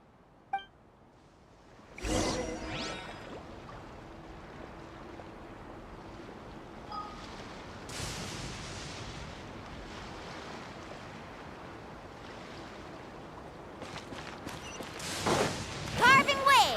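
Waves and surf wash past a sailing boat in the video game Genshin Impact, a soft steady rush broken by louder splashing surges at intervals, swelling toward the end.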